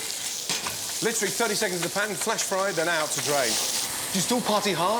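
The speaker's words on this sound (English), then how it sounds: "Tuna in. Literally 30 seconds in the pan, flash fried, then out to drain." Tuna flash fries in a hot pan, making a continuous hiss and sizzle beneath someone talking loudly over it.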